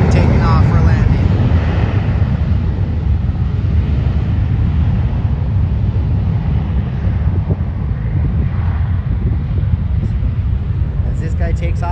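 An airliner takes off down the runway at LAX, a busy airport, as a steady, loud broadband engine roar with wind rumble fills the whole stretch.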